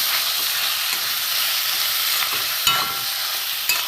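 Grated potato and brinjal stir-fried in a pan for a vegetarian brinjal chop, with a steady broadband sizzle and a couple of sharp spatula scrapes. It sounds close and continuous, with no talking.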